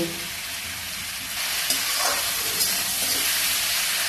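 Ilish fish head and pui shak greens sauté with turmeric in a pan, producing a steady, close hiss that swells louder partway through, with faint stirring scrapes.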